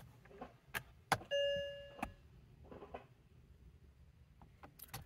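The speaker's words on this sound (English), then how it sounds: "you can hear the ISM sending signal or switching between the gears" A Mercedes-Benz automatic transmission's ISM (intelligent servo module) actuating through gear positions with the ignition on: a few sharp clicks, then a steady electronic tone lasting under a second, followed by soft thuds and faint mechanical clunks in a quiet setting.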